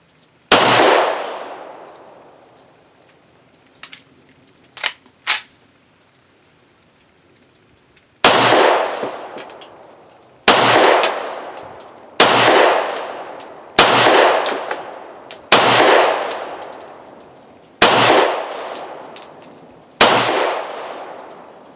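A Walther P1 P38 9mm pistol fires a magazine outdoors: sharp, loud, close shots, two early ones with a gap, then six more in a fairly even cadence about two seconds apart, each with a ringing decay.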